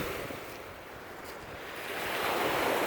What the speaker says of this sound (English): The beautiful waves.